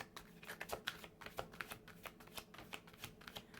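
Tarot cards being shuffled by hand, a quiet, close series of rapid papery riffles and soft flicks in irregular bursts, alone without talk.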